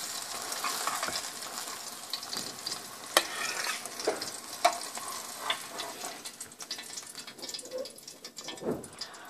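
Coconut milk gravy for Kerala fish molee bubbles and simmers in a pan, a soft steady hiss broken by scattered pops and light stirring clicks, heard up close with no talking.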